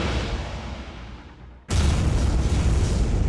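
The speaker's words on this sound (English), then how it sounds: "Constant explosions, collapsing floors, it's all so slick." A large explosion booms inside a collapsing building in a video game shooter. A low rumbling roar fades out, then a sudden loud blast cuts in and keeps roaring at full strength.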